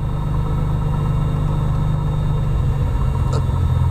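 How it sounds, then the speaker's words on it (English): An aircraft piston engine turning at idle around 800 RPM, giving a steady, low, even rumble heard close up and unbroken, with no voices over it. "now the throttle is at idle and this is your idle RPM, something around 800-850"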